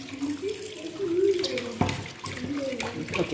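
Tap water runs steadily into a sink while raw chicken is rinsed, a close, continuous splashing wash with a brief knock partway through and no talk.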